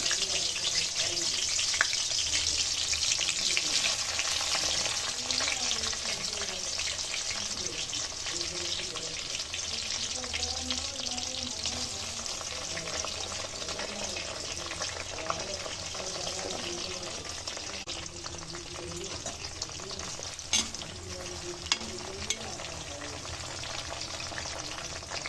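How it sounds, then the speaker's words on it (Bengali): Pointed gourd (potol) fries in a pan with a steady, dense sizzle that runs the whole time, broken by occasional stirring scrapes and clinks, and a voice speaks faintly now and then. "তারপর এবার পটল ভাজছি।"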